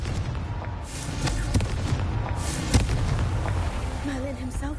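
A Confringo spell explosion from Hogwarts Legacy booms and rumbles under a voice speaking through the noisy game sound, with a few sharp blasts and crackles mixed in.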